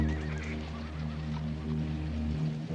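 Black gelding, Ponderosa-bred saddle stock, whinnying at a livestock auction amid a steady low hum and harmonic drone, with a rising vocal cry near the start.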